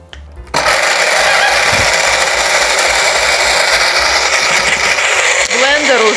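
A kitchen blender grinds pistachio nuts with a sudden loud, harsh whirring roar that starts abruptly after a brief quiet moment and runs steadily close up for several seconds.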